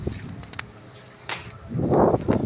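Sudden bursts of wings flapping close by, a pigeon taking off in a quick flurry, with faint high tones and no talking.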